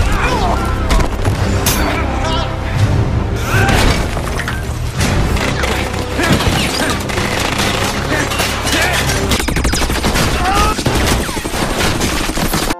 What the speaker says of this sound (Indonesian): Terjadi perkelahian dan baku tembak antara Max dengan anak buah Kruger.